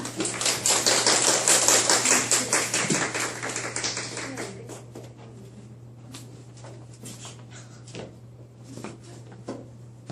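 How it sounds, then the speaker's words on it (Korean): An audience at a presentation event claps, dense and loud at first, then thinning to scattered claps that fade over the next several seconds, with a steady low hum underneath. "자, 이번에는 두 번째로 모실 송파 제국의 강희경 선생님을 네, 큰 박수로 앞으로 모시겠습니다."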